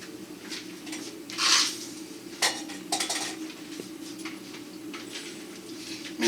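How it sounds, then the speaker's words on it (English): Dried cranberries are tossed into cooked quinoa in a bowl, with soft patters and a few clinks of a utensil against the dish, close and fairly quiet with no talk. "with the quinoa, I'm going to throw these dried cranberries in"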